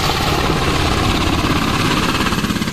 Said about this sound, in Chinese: 一看到空勤直升机落地